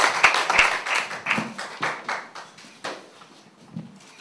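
Audience at a Korean political party campaign rally claps for a deputy leader candidate, a scattered, uneven burst of hand claps that gradually thins and fades out.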